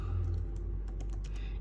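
Quick run of keystrokes on a computer keyboard as a folder name is typed, close and fairly soft over a low background hum.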